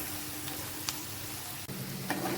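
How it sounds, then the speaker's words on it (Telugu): Chicken pieces for a fried-chicken biryani sizzle in a pan while being stirred, a steady moderate frying hiss with a couple of brief scraping clicks. "దీన్ని బాగా కలుపుకుందాము."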